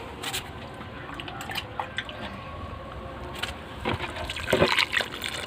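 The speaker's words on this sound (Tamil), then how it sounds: "மண்ணை தள்ளி விட்டுட்டு தண்ணி ஊற்றிட்டு வர வேண்டியது தான்" Water poured onto the soil around a rose plant's roots gives soft drips, trickles and wet splashes near at hand, sparse at first and then a heavier gush near the end.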